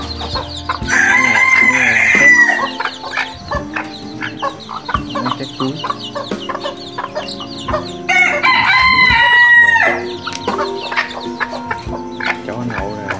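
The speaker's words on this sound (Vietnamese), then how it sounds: "Này có bầy gà con gà mái nha, mới xuống xuống ổ" A bantam hen with her young chicks near a nest in Tân Châu, An Giang, Vietnam. Loud clucking and chicken calls carry on continuously, with thin chick peeps and someone speaking over them.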